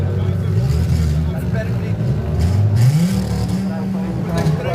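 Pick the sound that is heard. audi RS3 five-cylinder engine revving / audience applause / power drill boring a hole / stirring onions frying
audi RS3 five-cylinder engine revving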